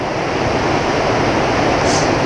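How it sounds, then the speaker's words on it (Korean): Ocean waves rolling onto Taean beach at sunset, a steady, loud broadband wash of surf with continuous roar and no distinct breaks, heard alone without voices. "이렇게 파도 소리만 들리는데"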